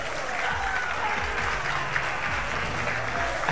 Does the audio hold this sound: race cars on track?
no